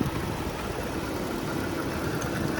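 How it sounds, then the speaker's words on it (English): A BMW 645ci's 4.4-liter engine idles steadily nearby, a smooth low rumble holding constant throughout with no voices. "Not much to see in the engine because they cover everything up, but you can hear it running"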